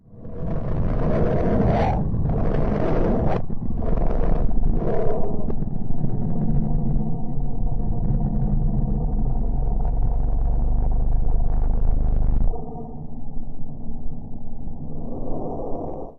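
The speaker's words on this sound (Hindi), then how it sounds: "ये रही अब बुध ग्रह की आवाज।" A sonified rendering of planet Mercury: a heavy, roaring rumble with pulsing bursts early on, settling into a continuous loud growl that softens near the end.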